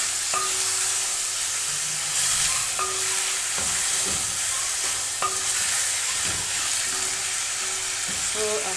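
Instant noodles with tomatoes stir-fry in a pan, giving a steady loud sizzle with a utensil scraping and clinking against the pan at intervals, close up.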